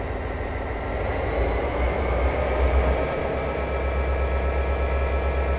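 An EMD SD40-2 diesel locomotive running in Train Simulator 2014, a steady low engine rumble with a constant mechanical drone and faint periodic clicks, heard continuously without talk.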